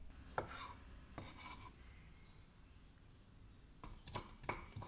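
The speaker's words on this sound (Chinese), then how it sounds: "番茄350公克切成小块" Tomatoes chopped into small pieces on a cutting board, a few quick knife strikes in short bursts separated by a quiet pause, close and faint.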